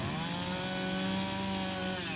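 Chainsaw carving a bear's snout into wood, with a steady, continuous close engine drone and a buzzing saw tone held throughout, no talking.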